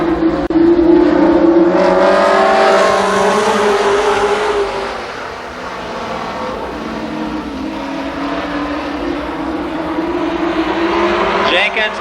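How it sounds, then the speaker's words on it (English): Late model race cars roar around Columbus Motor Speedway during a 10-lap heat race, engines droning and rising in pitch as they pass, loud and continuous under an announcer's commentary. "car number 6, Jerry Mitchell, rounds out the field for this, the 10-lap second late model heat race"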